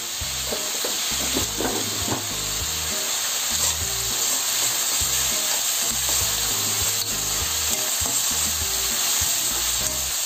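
Onion and tomato being stirred in hot oil in a pan for a Maharashtrian kadva val usal, giving a steady sizzle with repeated scraping strokes of a spoon, close and continuous, with no talking.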